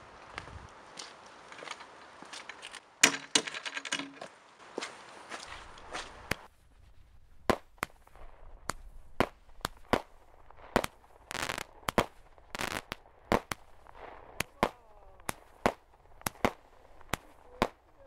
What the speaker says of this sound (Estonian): Me laseme siin ilutulestik nüüd ära.